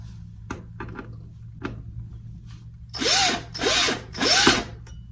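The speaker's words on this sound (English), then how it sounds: "Grab your second screw and then secure that to that little oval-y thing." Cordless power drill driving a screw into a bracket for a cellular window shade: a few light clicks and taps, then three short whirring bursts in succession, close and fairly loud.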